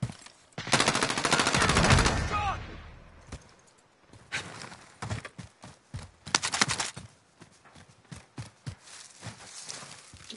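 Gunfire in a PS4 online shooter: a sustained burst of automatic fire opens, followed by rapid irregular shots and clattering impacts, loud and close, with a voice briefly heard in between.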